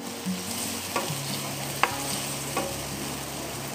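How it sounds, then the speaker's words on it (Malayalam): Tomatoes sautéing with ginger in hot oil over a high flame for a Kerala-style beef roast: a steady, close sizzle with a few sharp knocks and scrapes from a stirring spoon against the pan. "ഹൈ ഫ്ലെയിമിലിട്ട് നല്ലതുപോലെ വഴറ്റിയെടുക്കണം, എങ്കിലേ തക്കാളി നല്ലതുപോലെ വെന്തൊടയുള്ളൂ"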